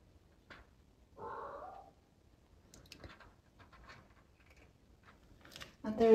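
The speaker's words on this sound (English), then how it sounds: "I have kittens that have just arrived at the house." A skinny stray kitten newly arrived at a stone house in Portugal gives a short, thin meow, with faint scuffling, a few soft murmured voices and another brief cry near the end.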